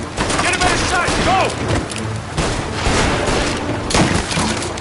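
Gunfire in Mafia Definitive Edition during an ambush shootout, several sharp shots and bursts at irregular intervals, loud and close, with game voices and chatter between them.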